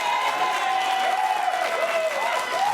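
A studio audience gives a short burst of applause and cheering, a dense, steady wash of clapping that fills the room for a few seconds.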